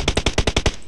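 Rapid automatic gunfire in the mobile battle royale game PUBG Mobile: a burst of about seven loud, evenly spaced shots over one second, close and alone.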